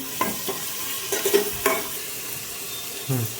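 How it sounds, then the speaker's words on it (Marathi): Sliced onions and two medium tomatoes being stirred in a hot frying pan for dal khichdi, a few scraping spoon strokes over a soft sizzle, close and fairly loud, no talking. "आता याला चांगलं मिक्स करून घेते मी"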